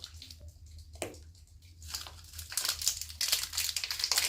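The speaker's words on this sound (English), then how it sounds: "I started to open our bath bomb and it crumbled in my hand, so I guess I'll have to dump it out of this package" Crumbs of a crumbled Wicked Mermaid Fragrant Jewels bath bomb tumble out of a crinkling plastic package, a soft close rustle and patter that grows busier and louder toward the end.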